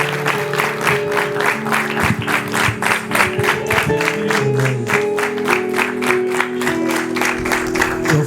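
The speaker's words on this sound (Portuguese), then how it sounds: "Você pode aplaudir o nome dele?" A church congregation claps together in a dense, steady round of applause that fills the room, sustained evenly throughout with a faint murmur of voices beneath it.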